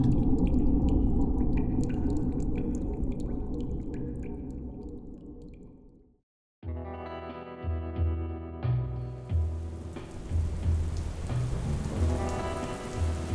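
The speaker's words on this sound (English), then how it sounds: "The rain that falls is black, the color of broken moons forgotten at the edge of the universe." Steady heavy rain pours alone for about six seconds, then breaks off, and a music bed of low pulsing notes begins, with rain-like hiss returning beneath it.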